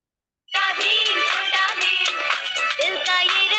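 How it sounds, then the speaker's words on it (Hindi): A phone ringtone from a classroom during a lesson on Vedic mathematics starts suddenly after a short silence and plays as a loud, continuous electronic melody of bright, repeating notes. "हमारा मास्टर है ना अपने फोन पर रिंगटोन ला रहा है वहाँ।"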